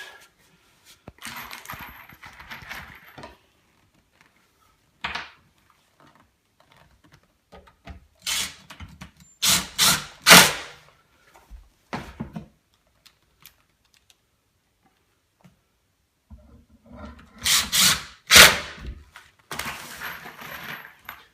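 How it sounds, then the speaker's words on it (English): Screws being driven to join the wooden sides and back of a bed frame: irregular clusters of sharp clicks and rattling bursts separated by quiet pauses, close by, with no talking. "I'm just screwing the sides and the back together."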